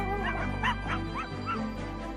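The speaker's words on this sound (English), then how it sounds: ""Come on," barks Rainbow Dog." A cartoon dog in a children's colours story yips and barks in a quick run of short, bright, high-pitched calls over a low steady hum.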